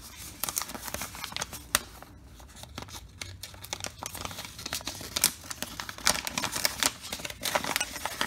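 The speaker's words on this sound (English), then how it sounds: "Oh, it's in a paper wrapper there." A paper wrapper is pulled off a mailed baseball card, giving a run of crisp crinkles and tearing rustles in uneven bursts, close and fairly loud, with a short quieter pause midway.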